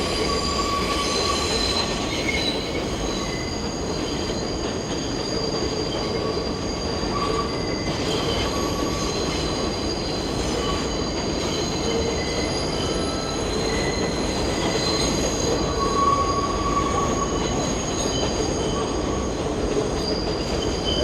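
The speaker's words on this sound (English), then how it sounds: "I'm going to wait here until the train passes by and capture some shots." A New York City subway train rumbles steadily past up close, its wheels squealing in high, sustained tones over the continuous roar of the rails.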